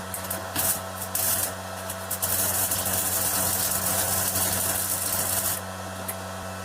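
A Dnipro M MG-16 semi-automatic MIG welder lays a weld with 0.8 mm wire, giving a steady crackling, buzzing hiss over a low machine hum that holds for several seconds before cutting back to the idle drone, heard close.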